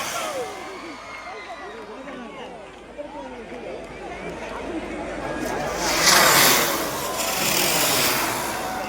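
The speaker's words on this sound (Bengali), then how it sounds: "আসমান চরকি চলছে" Spinning asman charki fireworks at a nighttime Gajan and Charak festival display, a continuous whirring, crackling hiss that swells louder later, with a crowd murmuring and someone talking over it.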